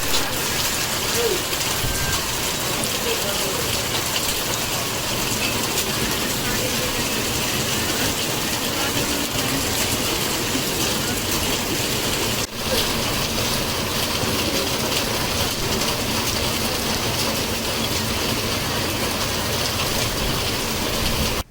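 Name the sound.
heavy rain from cyclone Ditwah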